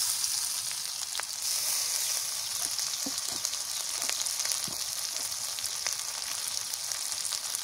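Onion and garlic paste sizzling in a pan, a steady bright frying hiss with occasional pops and crackles, close and continuous with no voices.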